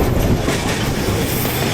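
Tista Express passenger train running on rails toward Joydebpur Junction, a loud continuous rumble and roar of wheels and carriages with a faint clatter, heard from on board.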